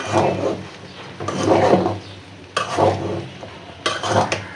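Khud (broken rice) being stirred in a cooking pot, scraping and sizzling strokes in four distinct bursts separated by quieter gaps, close and fairly loud.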